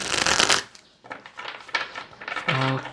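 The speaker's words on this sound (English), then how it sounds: "I will just do a shuffle or two on screen" Close-up riffling of a tarot card deck, a quick burst followed by softer flicks and a final crisp riffle, with no voices.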